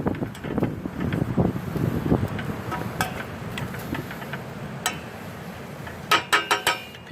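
Outdoors beside a cooking fire, wind gusts buffet the microphone in a low rumbling roar that rises and falls, with a few sharp metallic clinks of cookware and utensils, near and without talk.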